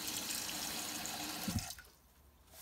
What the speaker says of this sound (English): so I'm going to wash it with salt water.